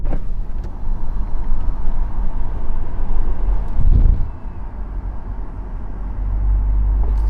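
The MG Cyberster electric open-top sports car pulls hard with a loud, continuous rumble and road roar that briefly surges, eases, then builds again as speed climbs.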